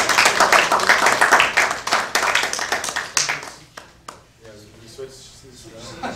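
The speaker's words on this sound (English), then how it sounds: "So let's embarrass him with applause." Audience applause at a community services district board meeting, a burst of hand clapping mixed with voices that fades after a few seconds into quieter room sound and talk.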